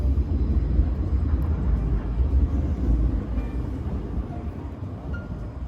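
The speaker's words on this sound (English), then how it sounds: "We're getting a noisy tram going by. Two of them. Back-to-back noisy trams." Two trams rumble past back to back in Bratislava's Old Town, a heavy low-pitched rolling roar close by that stays loud for several seconds and then gradually eases off.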